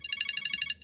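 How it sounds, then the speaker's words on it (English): A short electronic text-message alert on a phone: a quick run of about eight bright, rapid beeping pulses lasting under a second, clear and close with nothing else over it. "You're fixing to get a text message"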